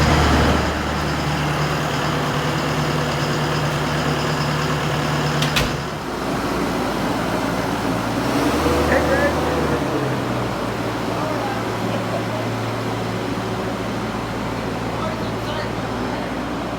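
A tractor engine's steady low rumble drones throughout, loud and close, with a brief change in pitch midway and no speech.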